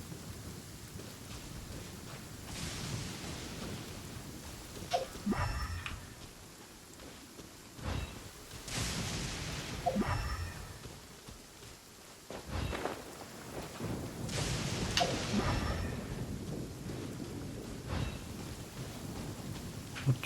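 A Genshin Impact thunderstorm: steady rain hiss under several loud thunder cracks and rolling rumbles spaced a few seconds apart, with no voices over it.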